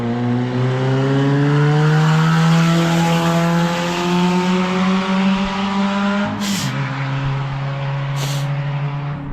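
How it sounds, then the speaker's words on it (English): A car with a loud exhaust races past on an evening street, its engine note droning steadily and rising as it accelerates, close and loud throughout with a brief shift in pitch near the end. "Loud exhaust, racing somebody else in the evening where not as much traffic and you can hear that."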